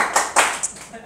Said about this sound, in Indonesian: Haleluya, tepuk tangan dulu.